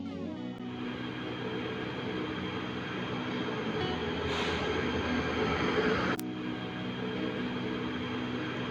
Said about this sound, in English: heat energy plus sound energy that is emitted from the train, as you can hear from the video